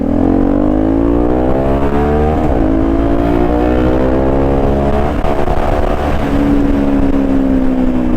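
A carbureted 250cc Honda Magna V-twin motorcycle rumbles loud and close with a steady exhaust drone, its engine pitch rising and falling through two distinct revs.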